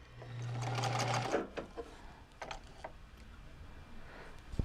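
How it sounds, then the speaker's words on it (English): Sewing machine stitching repeatedly in one place with stitch length set to zero: a close, steady whirring burst lasting about a second, followed by scattered mechanical clicks and soft handling noises. "Going to do a stitch length at 0 so that we don't have to back tack, and we'll just stitch in the same place a few times."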